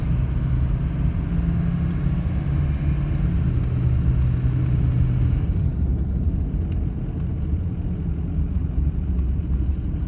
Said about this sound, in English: So we'll drive up here maybe another 200 feet, get closer to these wells.